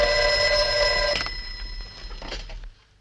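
Telephone bell ringing in a 1962 television drama, a loud trilling ring that stops after about a second, followed by fainter room sounds and a fading tail.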